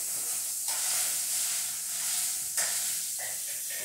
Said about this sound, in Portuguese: Tô deixando a carne fritar bem, fritinha.